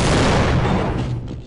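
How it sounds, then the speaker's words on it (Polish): Explosive barrels detonated by a grenade in Half-Life: Blue Shift, a loud, dense blast with a booming low rumble that fills the whole moment and slowly trails off, with no talking. "Tu widzę, że są jakieś wybuchowe beczki, to zrobimy taki myk, że granat i uciekamy."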